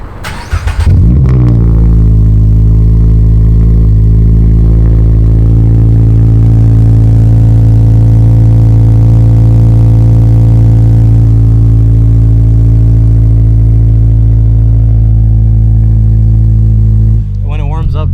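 A Subaru BRZ fitted with a cheap aftermarket exhaust cranks and fires up, then settles into a loud, steady, deep idle that holds close and alone for most of the stretch.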